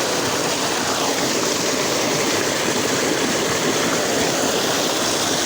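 Water from a village tubewell pours steadily into a pool, a loud, continuous rushing wash with no break or voices throughout.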